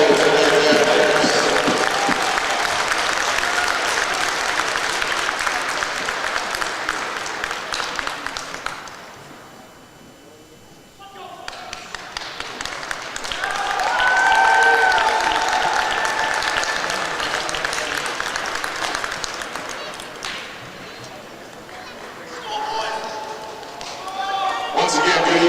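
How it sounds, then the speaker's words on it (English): Crowd at a high school football game applauding senior players and their families, with sustained clapping and cheering that fades to a brief lull and then swells again, with a voice talking over part of it. "let's have one big round of applause for all our senior football players and their families"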